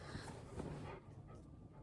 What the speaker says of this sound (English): My dog's talking to me.